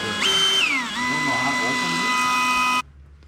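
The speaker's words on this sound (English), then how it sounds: "is that your drill?" A power drill runs in steady whining bursts with pitch rising and dropping as the motor speeds up and slows, close by, then cuts off abruptly; speech tagged faintly.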